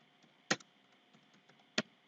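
Two isolated keystrokes on a computer keyboard, sharp clicks about a second apart over a faint steady hum in a quiet room.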